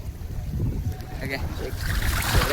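A boat travelling on the sea toward a jetty, with a continuous low engine and water rumble, gusty wind buffeting the microphone, and voices talking over it.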